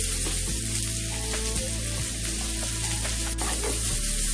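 Chopped onions and garlic fry in hot oil in a pan, giving a steady, close, low sizzle with occasional soft stirring knocks, no voices.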